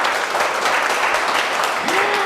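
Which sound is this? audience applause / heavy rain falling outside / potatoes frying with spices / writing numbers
audience applause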